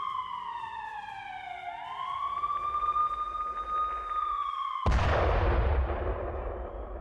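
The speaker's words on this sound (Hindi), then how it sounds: "यूक्रेन के कई शहरों में इस वक्त सायरन अलर्ट।" Air raid sirens wailing across Ukrainian cities during wartime alert, a loud rising-and-falling siren tone sounding alone for several seconds before a sudden heavy blast-like roar cuts in and dominates the end.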